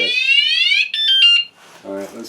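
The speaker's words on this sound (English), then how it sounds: "Now the other alarm has gone to warning, right? Now you've got both alarms going off" Two disc brake lock alarms on a RAD Rover e-bike blare together, loud piercing electronic tones that sweep and pulse at close range, followed by a person talking.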